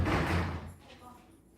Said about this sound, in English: The doors hitting each other.